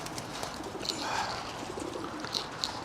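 Pigeons or doves coo softly at a farm, a few low mellow calls repeating over steady background noise, with faint chirps scattered throughout.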